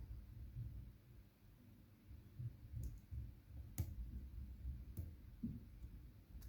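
An Abus C73 padlock is picked, giving a few faint, sharp clicks spaced about a second apart over a low, soft handling rumble. No speech.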